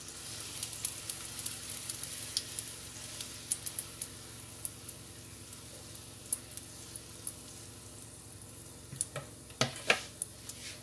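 Oil sizzles steadily in a pan as paratha for a chicken paratha roll fries. Scattered pops and ticks crackle through it, with a few louder clatters near the end and no talking.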